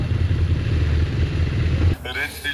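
Several motorcycle engines running close by with a steady rumbling idle for about two seconds, then cutting off sharply, leaving quieter background with faint voices.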